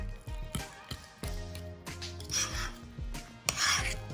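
Egg mimosa filling is stirred by hand in a bowl, with irregular scraping and rubbing strokes and soft taps against the sides, close and moderately loud.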